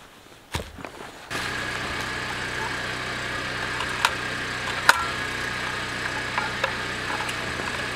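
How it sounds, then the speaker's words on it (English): A portable generator being pulled to start, a short rattle then it catches and settles into a steady, loud running drone with a few faint clanks over it, no speech. "So let me fire up the generator and let's see how we're gonna do this."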